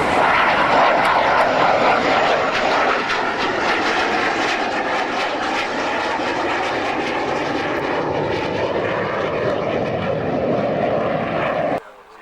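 English Electric Canberra jet aircraft at an air show, from its final days of RAF service: a loud, sustained roar of jet engines with shifting tone, ending abruptly near the close, with some talking in the background.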